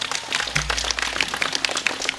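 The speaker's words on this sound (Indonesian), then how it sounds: "Tepuk tangan untuk Bali." A crowd at an Islamic religious gathering in Bali claps and applauds, a dense, fairly loud patter of hands that builds quickly and carries on steadily, with some faint voices mixed in.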